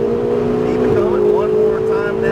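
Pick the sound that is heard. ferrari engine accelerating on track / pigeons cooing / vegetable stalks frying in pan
ferrari engine accelerating on track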